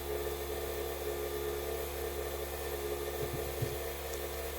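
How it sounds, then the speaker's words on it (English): A freeze dryer runs in a garage with a constant mechanical hum and a low pump drone, steady and unchanging throughout with no talking. "heard the noise of the freeze dryer, because I'm out in the garage,"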